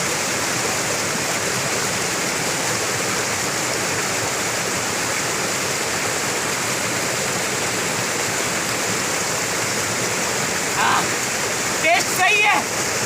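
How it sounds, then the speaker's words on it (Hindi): Flowing stream water rushing continuously, a loud, close, steady wash of broadband noise that fills the whole stretch, with a few faint brief sounds near the end. "ये बहता पानी मेरा एक जरिया है"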